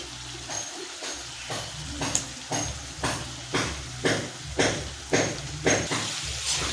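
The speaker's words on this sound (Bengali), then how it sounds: "নাড়তে থাকবো টমেটোটা গলে না যাওয়া পর্যন্ত।" Chopped tomatoes are stirred in a pan in a steady rhythm of scraping strokes, roughly one every half second, over a soft low sizzle heard up close.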